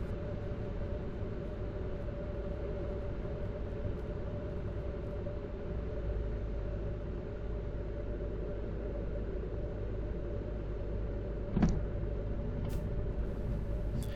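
A Cozy MKIV canard airplane rolls out on an 8,000-foot runway after landing, aero braking rather than using wheel brakes. A steady, even rumble runs throughout, broken by a brief sharp click near the end.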